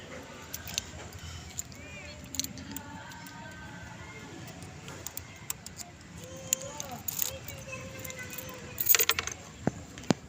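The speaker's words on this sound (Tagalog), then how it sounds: "Oh, susi." Keys jangle in short, scattered bursts at fairly low volume, with people talking in the background and small household knocks around them.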